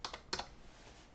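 Keys clack on a computer keyboard as a file name is typed, a handful of light, quick taps in two short bursts, close and quiet with nothing else heard.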